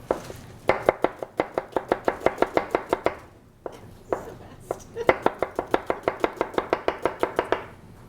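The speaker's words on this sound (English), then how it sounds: "And then the onion, I'm just going to do a quick julienne with that." A knife julienning an onion chops rapidly on a board in quick, even runs of sharp taps, broken by a short pause, close and crisp.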